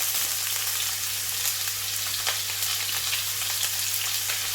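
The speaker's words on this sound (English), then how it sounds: "I will add my onions." Onions hiss loudly in hot oil for jollof pasta, a dense, even, close sizzle with a low hum underneath and no talk.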